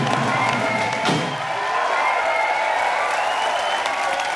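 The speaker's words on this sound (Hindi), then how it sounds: "प्लीज वेलकम आपकी जोरदार तालियों के बीच" A studio audience at a Kapil Sharma Show taping greets Paralympic champions with loud, continuous clapping and cheering, a dense roar of hands and shouts with music playing underneath.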